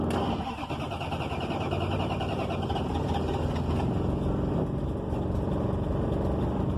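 A junkyard Dodge Charger with a newly fitted exhaust and carburetor trouble runs steadily, a dense continuous engine rumble heard close and loud for several seconds without letup.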